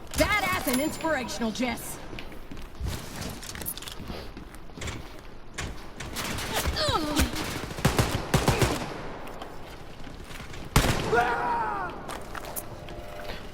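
Gunfire from the video game Wolfenstein: Youngblood, with rapid automatic bursts and sharp shots scattered through the clip under steady talking.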